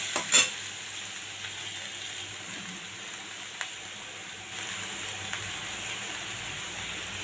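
Torn stale roti pieces for a roti chow get stirred and tossed in a pan, a soft steady frying sizzle with light scraping and a few brief clicks, close and without talk.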